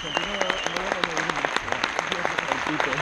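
An audience at a PortAventura dance show applauds steadily, a dense wash of clapping while a voice carries on speaking over it.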